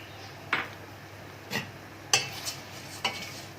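A utensil scrapes and taps through vermicelli frying with onions in a pan, four or five short separate strokes over a faint sizzle, close and quiet with no talk.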